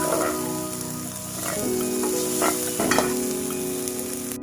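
A potato wedge mixture sizzles and fries in a pan on the stove, a steady crackling hiss with stirring scrapes and brief clinks, close and fairly loud with no talk.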